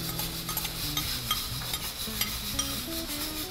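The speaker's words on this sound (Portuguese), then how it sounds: "A batata quase pronta, vou pôr a cebola." Onion and nearly cooked potatoes fry in a pan while being stirred. A steady sizzle runs under scraping and stirring noises, close by and continuous, with no speech.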